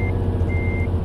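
Truck reversing beeps in Euro Truck Simulator 2: a steady electronic tone sounds in two pulses over a constant low engine drone, with no talking.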